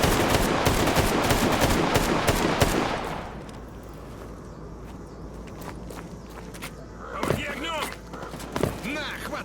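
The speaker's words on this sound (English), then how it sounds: "Who the hell is shooting me?" Gunfire in a free survival video game: a dense burst of rapid shots for the first few seconds, then quieter rumbling with scattered thuds and a few sharp bursts near the end.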